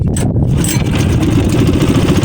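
A small boat engine used for fishing starts and settles into a loud, close idle. It runs with a steady mid-pitched throb for a couple of seconds and nothing else is heard.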